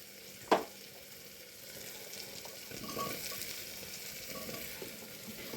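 Peas and potatoes sizzle steadily in a pan for matar pulao, a soft continuous frying hiss with a sharp clink or knock near the start and light stirring scrapes throughout.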